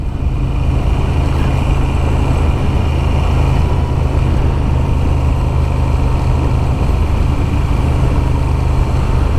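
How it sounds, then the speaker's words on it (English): Moto Guzzi V7 Sport motorcycle engine running through aftermarket exhausts, a steady low rumbling idle with a continuous deep drone, loud and close, with no talk over it. "I have to say though that the engine note through these exhausts is more pleasing on the ear than on my bike"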